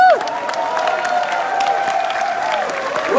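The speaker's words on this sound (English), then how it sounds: "So guys, please give a really warm applause to Thomas." A conference audience welcomes speaker Thomas Valle with loud, sustained clapping and some cheering, and a tonal hum or music runs beneath the crowd noise.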